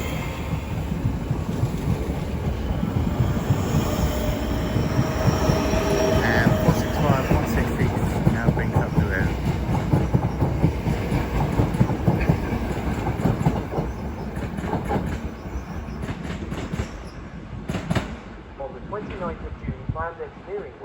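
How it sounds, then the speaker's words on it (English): A Southeastern class 465 electric multiple unit departs Orpington station as an empty stock run toward Grove Park sidings, its motors humming and wheels clattering loudly before fading, with a station announcement voice over the noise. "Now heading off ECS now will be a southeastern service bound for Grove Park carriage holding sidings."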